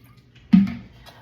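Boiling toffee surges and bubbles up in a pot the moment vanilla goes in, a sudden close hissing burst that swells and then fades quickly.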